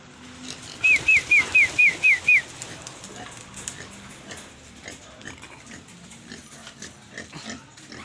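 Racing pigeons in good condition released into the air, with a quick series of six short whistle-like chirps followed by soft, irregular bursts of wing flapping at a moderate distance, no talk.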